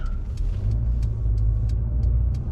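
Steady low rumble of a Mercedes CLA 200 being driven through Ouchy, heard from inside the cabin, with continuous road and engine noise and faint higher ticks over the top, no voices.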